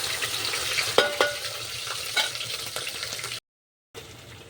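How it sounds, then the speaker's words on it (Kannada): Onion and chillies frying in hot oil in a pan, a steady close sizzle with a few sharp stirring clinks, then a brief gap before the sizzle resumes. "ಈಗ ಉಳ್ಳಾಗಡ್ಡಿ ಮತ್ತಂದ್ರೆ ಮೆಣಸಿಕೆ ಈಗ ಚಂದನತ್ತಿಗೆ ಫ್ರೈ ಮಾಡ್ಕೊಂಬಿಡಿ"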